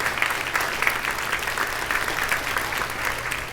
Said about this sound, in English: let's give everyone in here a great big round of applause